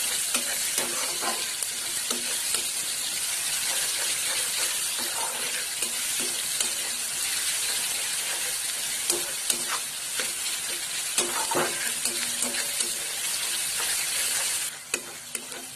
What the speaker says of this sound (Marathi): चांगला गुलाबी होईपर्यंत फ्राय करून घ्यायचं व्यवस्थित